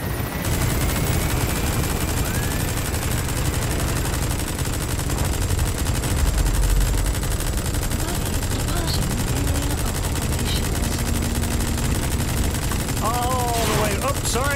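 Rapid gunfire in Metal Gear Solid V, striking a helicopter, rattles on steadily throughout amid game noise and a background engine drone, loud and close.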